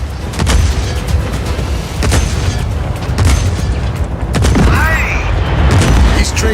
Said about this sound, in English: But the explosion, the gunfire, it's unnerving.